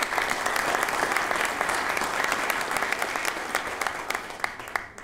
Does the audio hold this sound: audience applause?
yes